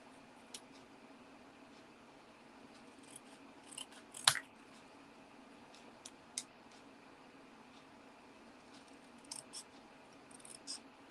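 Scissors cutting through card paper while making a folded greeting card: sparse, quiet snips scattered irregularly over a hushed room, with one sharper, louder cut partway through and a small cluster near the end.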